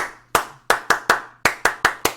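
Eight sharp, close hand claps ring out alone: one single clap, then a quick run of three, a short pause, and four more in an even rhythm.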